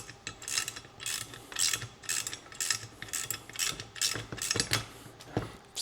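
Wrench ratcheting as a nut is tightened on a Polaris P22 clutch while an Allen key holds it, a series of quick, close clicking bursts in an uneven rhythm, with no talking.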